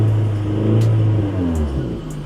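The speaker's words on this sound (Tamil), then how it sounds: "இப்போ நான் ரேஸ் பண்ணுறேன்." A car engine with a faulty exhaust system revs up from idle, a loud close rumbling roar with rough, uneven low-end drone rising and falling across the rev, no voices.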